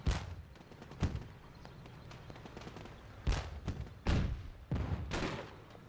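Bursts of gunfire in Theatre of War 2 at the Kasserine Pass, Africa 1943: a few sharp shots, then heavier clustered volleys toward the end, over a low rumbling battlefield background.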